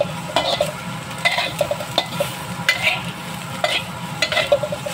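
Chilies toast in a pan and are stirred, producing a soft crackling sizzle under repeated rhythmic scrapes and light clinks of a utensil against the pan, close by and without speech.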